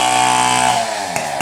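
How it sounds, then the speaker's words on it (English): A noisy chainsaw runs outdoors during a cleanup beside drained fish pits, its loud, steady engine whine close by and sliding down in pitch as it eases off the throttle. "there's a noisy chainsaw"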